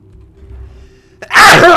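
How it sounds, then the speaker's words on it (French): A single loud, explosive human sneeze bursts out after a short quiet inhale, very close and sudden. "Je vais éternuer, encore."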